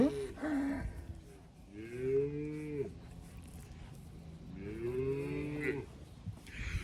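A bull on a farm moos twice, long drawn-out calls rising and falling, with a sharper snort-like call near the start; close and fairly loud over faint background noise.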